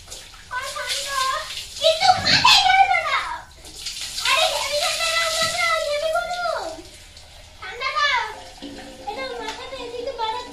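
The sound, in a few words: water while bathing a child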